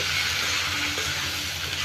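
Ground spices (salt, turmeric, chili powder and coriander powder) fry in a hot pan, giving a steady, dense hiss of sizzling that holds at an even level throughout with no talking.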